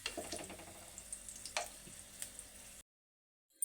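Sweet corn snacks frying in hot oil, a soft steady sizzle with faint crackles for a few seconds before cutting out to near silence.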